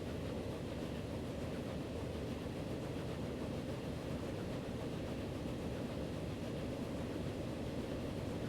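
A passing train in the railway game Transport Fever, heard as a steady, dense low rumble of rolling wagons that holds at an even level for the whole stretch, with no voices over it.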